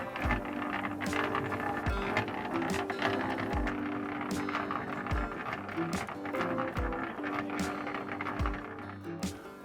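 A Vitals concrete mixer runs steadily nearby, giving a continuous mechanical hum with a faint rhythmic clatter of turning gears and repeated low thumps as the drum rotates, with no talking.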